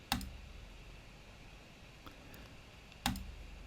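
Two crisp computer mouse clicks, one near the start and one about three seconds later, close and distinct over a quiet room hiss, with a faint tap between them.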